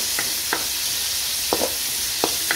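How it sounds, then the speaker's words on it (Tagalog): Garlic and onion sauté in a hot pan with a constant bright sizzle, broken by several short scraping stirs at irregular intervals. "ginisa ko na yung bawang sibuyas"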